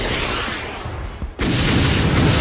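Missile explosions striking Shin Godzilla in a monster film battle, a dense roaring boom that dips briefly then surges back, loud and continuous with no talk.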